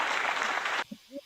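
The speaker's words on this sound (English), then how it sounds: "I'm gonna give you guys claps for those comments." A short burst of clapping on a sports podcast, a thick rapid patter lasting under a second that cuts off abruptly, followed by a couple of brief voiced sounds.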